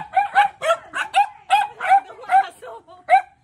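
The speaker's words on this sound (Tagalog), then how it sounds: "Ito po yung aso niya. Pangalan si Brownie." Brownie, a dog at a family house, lets out rapid, high yappy barks and whimpering yips in an uneven string of about a dozen sharp calls, close by.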